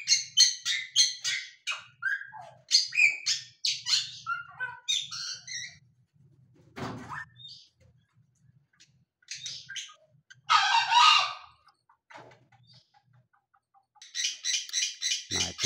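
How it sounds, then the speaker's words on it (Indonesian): Bali mynas and other birds call inside an aviary: bright, sharp chirps and whistled phrases in rapid clusters, some loud and near, with pauses between bursts and no talking. "Nah, itu dia untuk jalak balinya"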